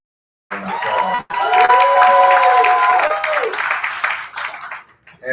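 A crowd at a civil-rights commemoration event claps and cheers loudly, with whoops and shouts rising over sustained applause that dips briefly then swells again before tapering, voices calling out through it.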